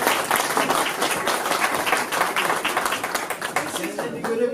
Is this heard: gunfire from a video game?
no